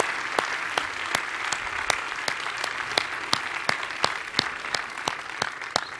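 Sustained applause from a theatre awards audience fills the hall at a steady level, with a few sharp, louder claps standing out at regular intervals near the listener.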